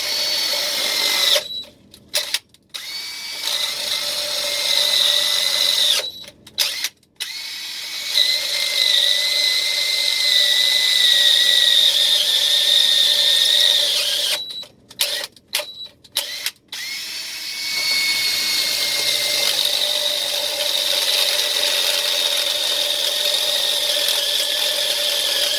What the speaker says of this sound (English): We're gonna go ahead and drill this holes then.